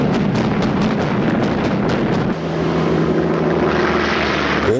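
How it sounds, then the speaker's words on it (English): US bomber aircraft attacking Japanese aircraft carriers in World War II: a loud, steady propeller engine drone fills the whole stretch, with a lower, shifting tone after the midpoint and no talk. "the Japanese carriers were attacked by US bombers."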